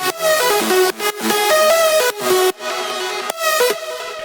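Soloed hardwave synth leads with effects, playing a bright, harmonic melodic line with stepping and gliding notes and short breaks, loud and alone.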